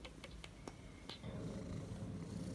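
A cat purrs close up in a steady low rumble, with a few soft clicks and rustles early on before the purr grows fuller and more even.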